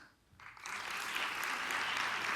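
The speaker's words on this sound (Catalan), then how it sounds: "que aplaudisca qui se pense que és de veres" An audience starts clapping after a brief quiet moment, the applause swelling quickly into a steady, moderately faint patter that carries on to the end.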